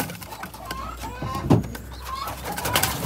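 Racing pigeons coo in a loft, soft repeated throaty calls close by, with faint rustling and someone speaking quietly in the background.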